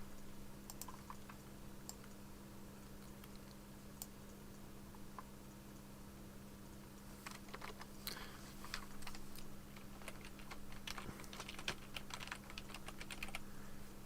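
Typing on a computer keyboard, a steady run of light key clicks that thickens into denser bursts partway through, heard close over a constant low electrical hum with no talking.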